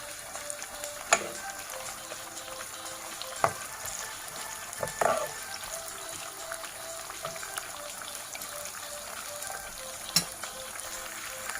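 Chopped onions sizzle and fry in a hot pan for a chicken and eggplant dinner, a steady close crackle broken by a few sharp stirring clatters, with no talking.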